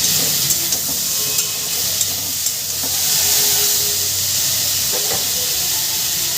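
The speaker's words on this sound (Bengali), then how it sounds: "আর সবজিটা একটু সামান্য ভাজা ভাজা করে নেবো" Steady sizzling and hissing of vegetables frying in a pan, close and continuous, with a few faint clinks and stirring sounds.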